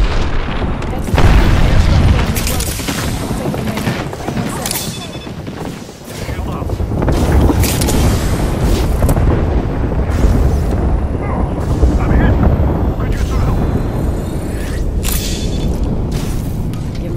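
Artillery strike explosions in the video game Apex Legends, a loud, sustained barrage of booming blasts and crackling bursts that lasts the whole stretch, with no clear gap between impacts.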